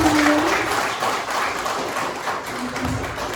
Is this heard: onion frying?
no